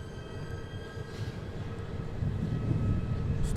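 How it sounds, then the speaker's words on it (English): Aircraft external power unit starting up on an airport ramp, a steady loud mechanical rumble with a faint whine above it, building slightly in level, close by with no talk. "Got a little external power unit here starting up."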